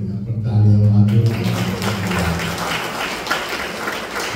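A congregation at a church prayer meeting claps hands, a rough burst of clapping following the tail of a voice speaking or singing, fairly loud and continuing to the end.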